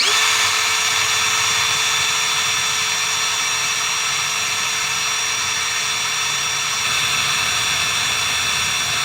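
A power drill bores through a car floor and the dyno mat laid over it, a steady, close, high-pitched whine held without a break and with no talking.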